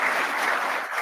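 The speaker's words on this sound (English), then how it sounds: "let's give our 2 candidates a round of applause" Audience applause for two candidates at a community candidates forum on Oak Island, a steady dense wash of clapping filling the whole moment at moderate volume.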